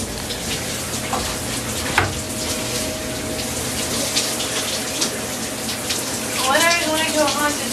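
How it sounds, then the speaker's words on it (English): A running tap pours cold water into a container, a steady close hiss and splash with the pitch rising briefly near the end, while people talk quietly in the background. "we're filling up a thing of cold water"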